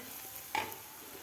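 A spiced ground masala paste fries in oil in a pan for Maharashtrian stuffed eggplant. A faint, steady sizzle is marked by one brief scrape of stirring partway through.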